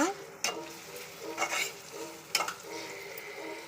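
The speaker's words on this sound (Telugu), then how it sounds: "ఫ్రై చేస్తున్నాను బంగాళదుంప ఫ్రై చేస్తున్నా" Potatoes frying in a home kitchen pan, with a steady soft sizzle broken by a few sharp scrapes and clinks of a spoon stirring against the metal, close and fairly quiet.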